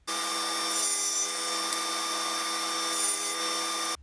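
A power saw cuts through hardwood in one steady, continuous run of about four seconds, with a whining buzz that stops abruptly.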